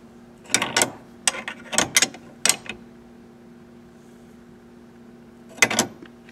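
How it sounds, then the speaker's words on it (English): Ratcheting clicks come in short bursts as a steering wheel lock plate compressor is cranked down on a 1973 Camaro steering column, with close metallic mechanism sounds and brief pauses between turns. "I'm going to use what's called a steering wheel lock plate compressor to push this plate back here"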